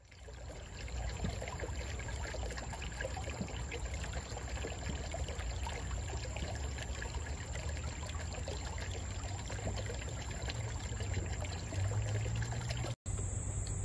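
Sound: creek water trickling

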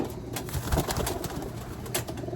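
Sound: pigeon cooing while being handled

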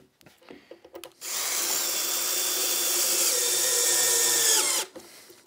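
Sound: drill driving dome head pocket hole screws into wood

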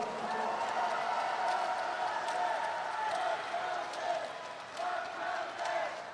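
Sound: crowd applause at party convention

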